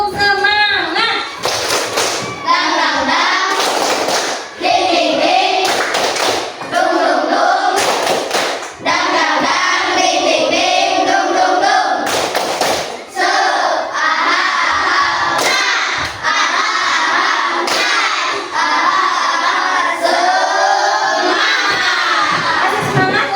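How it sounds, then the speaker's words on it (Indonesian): A group of children performs a rhythmic tepuk semangat clapping chant in a classroom, sharp bursts of claps punctuating loud shouted group chanting, repeated in patterned cycles throughout. "ayo kita tepuk semangat dulu"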